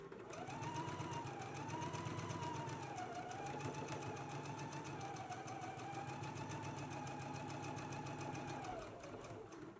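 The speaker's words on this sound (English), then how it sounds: "Let's go ahead and do our stay stitching now." A sewing machine runs steadily, stay stitching a garment neckline for Simplicity pattern 9952, with a continuous mid-level mechanical whir and rapid needle rhythm lasting nearly ten seconds before easing off at the end.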